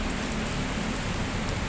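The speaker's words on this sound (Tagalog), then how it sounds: "Oh, ang lakas ng ulan." A downpour of heavy rain in Hong Kong makes a constant, close rushing hiss, with scattered louder drips spattering on a surface and no voices over it.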